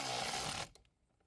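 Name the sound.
10mm socket driving in Land Rover battery hold-down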